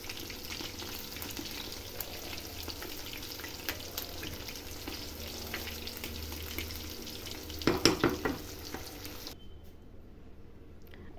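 Pieces of murrel fish fry in hot oil for a pickle, giving a steady, close crackling sizzle with a brief burst of clattering near the end before the sound cuts off abruptly.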